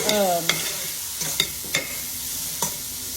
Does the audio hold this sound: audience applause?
no